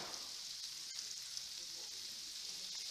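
Stir-fried vegetables sizzle and bubble steadily in a hot pan as a side to pan-fried fish with lemon butter, a close, continuous crackling hiss with a few small pops and no talking.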